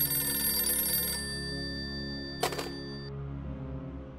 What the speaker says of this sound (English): the phone started ringing off the hook